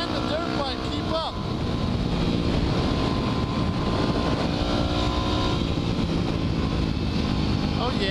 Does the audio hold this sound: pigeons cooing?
no